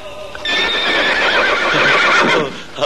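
A bay horse with a white star on its forehead gives a long, loud whinny close by, its quavering call rising over soft clip-clopping hooves.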